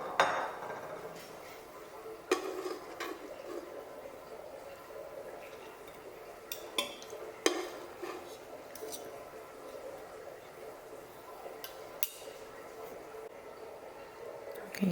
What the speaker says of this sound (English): I'm going to transfer it to a different bowl.